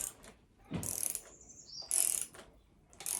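A torque wrench set to 7 foot-pounds clicks and ratchets in short bursts while snugging bolts on a CB Performance 2017cc engine long block, with quiet pauses between the metallic clicks.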